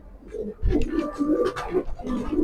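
Pigeons coo in a low, soft run of repeated calls, close by, with fluttering and shuffling noises mixed in before their bath in hot weather.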